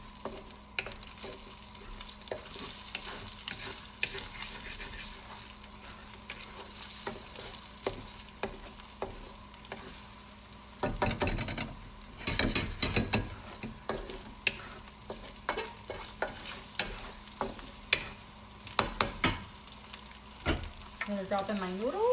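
Drunken noodles stir-frying in a pan, a soft continuous sizzle broken by scraping clacks and stirring bursts, fairly quiet and close.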